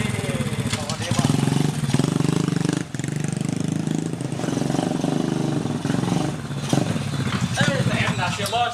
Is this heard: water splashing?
no